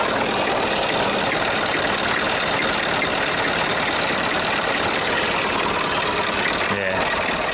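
A tractor engine runs under heavy load, a loud, steady mechanical drone close by that holds without a break, with a brief clunk near the end.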